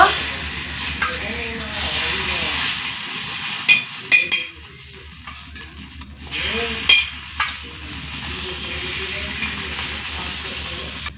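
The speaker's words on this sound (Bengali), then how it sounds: "এখন যে ডিমটা আমি ফেটিয়ে রেখেছি এখান থেকে আমি অল্প করে ডিম দিয়ে দিব" Beaten egg spread thin in hot oil on a tawa, frying with a steady close sizzle throughout, broken by a few light clinks and scrapes of a utensil against the pan.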